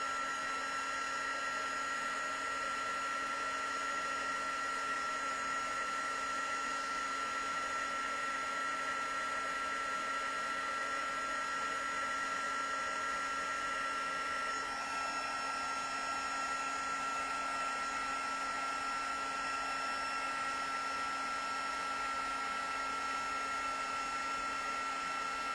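Steady whooshing hum of a heat gun blowing hot air over stamped vellum for heat embossing, constant and fairly loud throughout with no talking.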